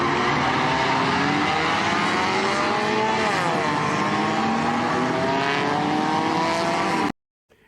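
Compact race cars roar around a track at a crash-derby style event, a dense continuous engine drone with revving pitch sweeps, loud and sustained before cutting off abruptly near the end.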